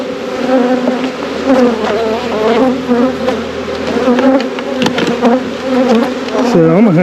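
A dense swarm of bees hums and buzzes loudly and continuously up close as a beehive infested with hive beetles is opened and inspected, with occasional clicks and handling noises.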